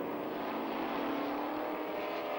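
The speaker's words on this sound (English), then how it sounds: "Sheer power of these engines, and the blocks for them were made by Reynolds Aluminium." A Can-Am race car with a Reynolds aluminium-block V8 roars at Silverstone, a loud, steady engine note held at high revs without a break, alone with no talk.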